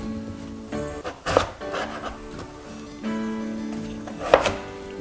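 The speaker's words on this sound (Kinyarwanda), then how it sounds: "Rero tugiye gutangira gukata ibirayi byacu." A knife cuts potatoes into pieces on a board for mashed potatoes, giving a few distinct chopping thunks spaced apart over a background of faint kitchen noise.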